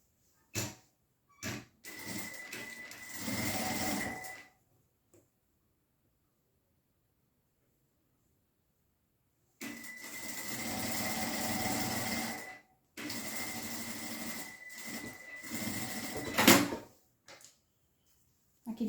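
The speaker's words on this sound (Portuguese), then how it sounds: "Então, eu vou fazer uma costurinha aqui, deixando bem na marcação." A sewing machine stitches jute fabric in several separate runs, a close whirring hum lasting a few seconds each time with quiet pauses between runs and small clicks around them.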